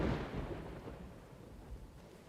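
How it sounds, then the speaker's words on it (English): Thunder from a storm in the video game Dawn of Man starts with a sudden loud crack. It then fades into a long, low rolling rumble. "the lightning's a little bit loud."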